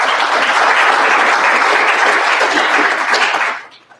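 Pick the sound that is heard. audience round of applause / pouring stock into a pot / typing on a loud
audience round of applause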